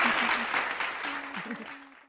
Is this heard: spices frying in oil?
no